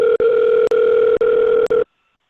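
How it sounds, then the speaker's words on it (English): A telephone line plays a loud, steady dial tone in four long segments broken by brief clicks as a number is dialed, then the tone cuts off into silence. "I'm gonna call my number here."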